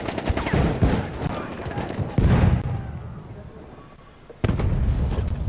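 Gunfire in the video game Battlefield 1, a rapid run of close, loud shots with a sharp burst near two seconds, a fading lull, then another loud volley near the end; faint speech sits in the mix.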